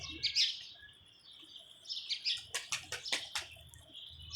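Pet pigeons flutter down to their keeper, with bursts of chirpy calls at the start and middle, then a run of rapid wing flaps and scuffles close by, followed by more faint calling.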